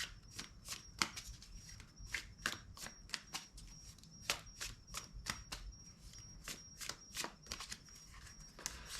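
Tarot cards from an Edgar Allan Poe deck being handled and laid out, giving a steady run of crisp snaps and slaps, close and fairly loud, with soft shuffling in between and no talk.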